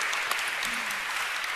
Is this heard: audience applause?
yes